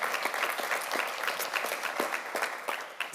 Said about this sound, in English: give Rich a big round of applause